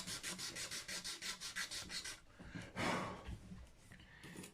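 Gunk is scraped off the solid slab fretboard of a Japanese Fender Mustang guitar in quick rhythmic rasping strokes, close and quiet, followed by a longer single scrape.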